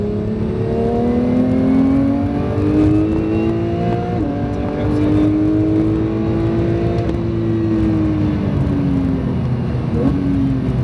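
A Porsche 911 (992) GT3 engine pulls hard on a track, its loud, close whine climbing and easing through rising revs with a brief shift-like dip near the end; no talking.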